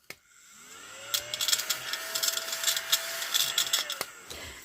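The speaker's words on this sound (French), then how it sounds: "C'est un aspirateur. Mais c'est génial pour enlever tous les petits copeaux et tout." Small handheld vacuum cleaner switched on to suck up eraser crumbs, a faint whine spinning up from silence into a steady hum with crackly rattling bursts as debris is drawn in.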